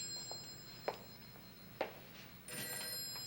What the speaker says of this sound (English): It's Joe Haskell for you. Why don't you take it from the hall?